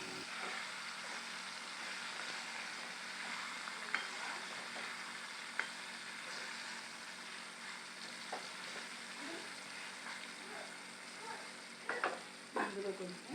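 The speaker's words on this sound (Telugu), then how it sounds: "ఇప్పుడు నూనె పైకి వచ్చేంత వరకు టమాటాలను ఉడకనివ్వాలి." Tomatoes cook in oil in a pan, giving a soft, continuous simmering sizzle with occasional faint clicks and a cluster of stirring knocks near the end; fairly quiet and without talk.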